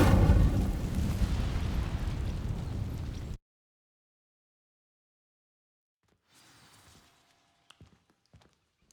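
An Incendio fire spell ignites dry vines in Hogwarts Legacy, a loud roaring burst of flame lasting about three seconds. It cuts off abruptly into silence, followed by faint scattered rustles and taps.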